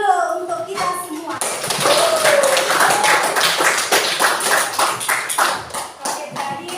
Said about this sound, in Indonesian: Kalau begitu kita aplaus dulu untuk kita semua.